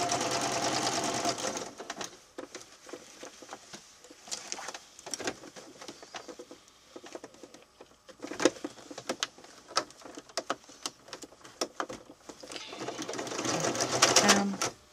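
Sewing machine stitching a fabric seam, a loud steady mechanical whir that starts and stops in bursts, with brief pauses and a bird cooing faintly in the background.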